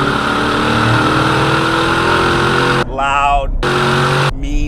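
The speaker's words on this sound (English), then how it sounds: "this BORLA ATAK exhaust is aggressive." A Corvette C fitted with a Borla ATAK exhaust revs hard in loud, aggressive bursts, the engine dropping off twice before climbing again, heard up close.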